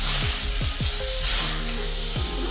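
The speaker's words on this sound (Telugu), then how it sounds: "ఆలును కట్ చేసి క్యూబ్స్ లాగా కట్ చేసుకొని వేసుకుందాం ఒకసారి ఇలా చక్కగా కలుపుకుందాం" Potato cubes are stirred into a sizzling chicken curry with coconut milk in a pan, a steady fry hiss under a few quick scraping sweeps of the spoon, close and fairly loud, with no talking.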